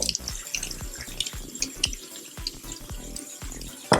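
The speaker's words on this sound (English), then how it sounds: "I got the water running" A bathroom tap runs into a sink while makeup brushes are cleaned under it, a steady close splashing flow broken by irregular drips and spatter, no talking.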